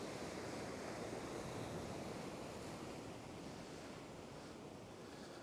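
Sea waves surge into a shore wash where someone is fishing, a steady, continuous roar of surf with wind buffeting the microphone and no voices.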